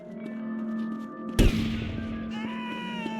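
A single sharp gunshot in the video game GTA Vice City, one loud crack over steady background music and hum, followed by a short decaying tail.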